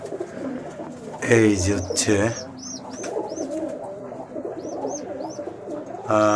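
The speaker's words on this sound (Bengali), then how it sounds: "মিসিং দুইটা কবুতরের মধ্যে একটা কবুতর কাম ব্যাক করছে তিন দিন পরে ফিরে আসছে কবুতরটা" A pigeon that has returned home after three days missing coos in low, rolling bursts close by, with a person talking over part of it and faint chirps from other birds in the background.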